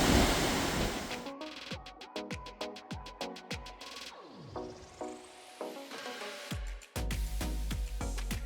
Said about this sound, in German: Beeindruckend, was da für Wassermassen runterstürzen.